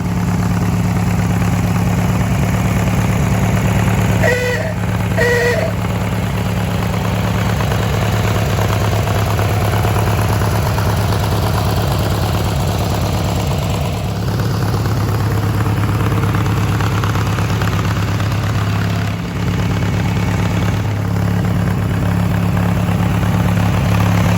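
A modified Craftsman GT6000 garden tractor engine runs steadily with a constant low drone and hum throughout, loud and close, with a couple of brief clanks near the start.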